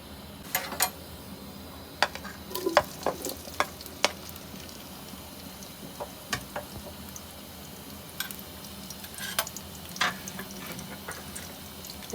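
Onions frying in about half a cup of hot oil in a pan for a spicy keema, a low steady sizzle with scattered sharp crackles and pops, fairly quiet and without talk.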